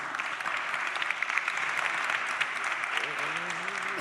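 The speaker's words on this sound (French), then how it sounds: "Ouais, on peut les applaudir." An audience applauds steadily throughout a talk or conference session on operational solutions, dense clapping that stays even and moderately loud, with a voice rising faintly near the end.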